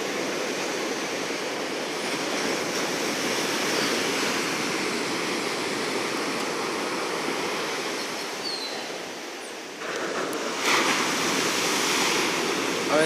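Ocean waves rolling onto a beach at Sosua, a steady broadband wash of surf that swells and eases, with a louder surge near the end and no voices.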